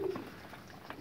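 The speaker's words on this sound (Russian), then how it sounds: "вот он приземлился наконец-таки, голубь мой" A pigeon with a green tail and pink-smeared breast gives a soft, low coo close by. The call is brief and muffled, with no other sounds over it.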